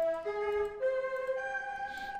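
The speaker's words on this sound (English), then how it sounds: "So I found a lead called Zongu N Ensemble Sus Trem." A synth lead patch called Zongu N Ensemble Sus Trem plays a few sustained, gliding tremolo notes, soft and alone.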